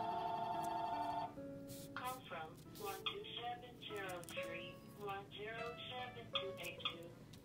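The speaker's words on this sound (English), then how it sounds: "my phone rings only when I'm making a video" A telephone rings with a steady electronic tone for about a second, then stops as someone talks at length in a quiet indoor room.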